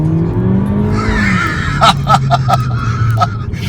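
A 2013 MINI Cooper S Coupe in first gear, its engine droning then climbing sharply, with a few short squeaky bursts over the top in a brief close-up burst of acceleration.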